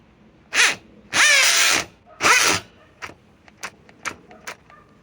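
Set to speed 2, a Metabo SB18 LTX hammer drill, made for drilling in steel, gives three short whirring bursts close by, followed by a series of quieter sharp clicks and ticks.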